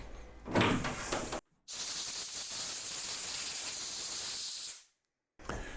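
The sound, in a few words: compressed air blowing parts dry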